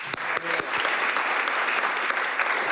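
Members of the Nova Scotia House of Assembly applaud, a dense, steady clatter of many hands clapping close and loud throughout, with a few sharper claps at the start.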